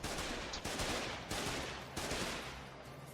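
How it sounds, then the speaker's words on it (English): Heavy machine gun in a video game firing in sustained bursts, a dense, loud rattle of rapid shots broken by three brief pauses, with no voices. "starting with the heavy machine gun, or HMG"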